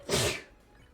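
A single quick sneeze, close and fairly soft, bursting out in a short breathy blast and fading into quiet room tone.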